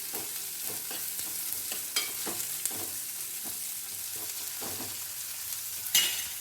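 Onions fry in a pan and are stirred to brown, a soft steady sizzle broken by repeated scraping stirs and a sharper clink near the end.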